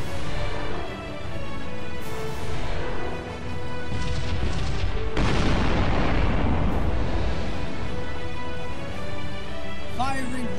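Spaceship weapons in the Sunrider space battle game fire as a long roaring barrage of booming blasts and rumbling explosions, loud and continuous, with a voice talking over it.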